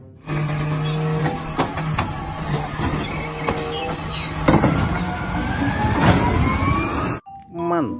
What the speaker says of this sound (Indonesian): Truk pengangkut sampah.